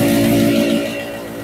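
A Royal Enfield Classic 350 single-cylinder motorcycle engine revved up gently, a loud steady drone close by that eases off toward the end.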